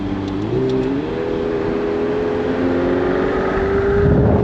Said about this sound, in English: What a pleasure driving this thing.